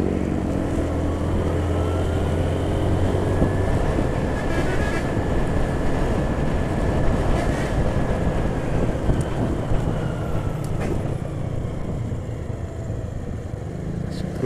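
A bus climbing the Kelok 44 road between Lubuk Basung and Pekanbaru, its engine droning loudly and continuously with heavy low rumble and wind noise, rising tone as it accelerates, no talk.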